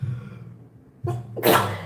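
A single sharp sneeze close to the microphone, preceded by a quick inhaled breath, after a low murmur.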